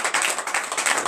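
A congregation claps in acclamation during a Tuesday morning prayer service, a dense, steady patter of many hands filling the short moment without pause.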